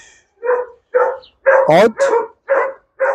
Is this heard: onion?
no